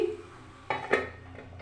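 A lid set down over a pan of saaj pitha batter with carrots, onion and beans cooking in oil, giving two close metallic clanks in quick succession over faint background noise.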